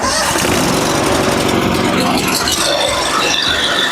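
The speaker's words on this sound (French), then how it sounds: "on va tirer ça et on va tirer le starter et puis démarrer" A Warrior series petrol engine with its choke pulled runs loud and close after a pull-start, a continuous rattling mechanical drone with a voice faintly underneath.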